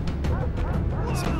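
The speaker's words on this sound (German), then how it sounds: "Diese blöden Hunde." Dogs in the video game Far Cry 3 bark in quick, sharp yaps, several close together over a second or so, loud against steady low game noise.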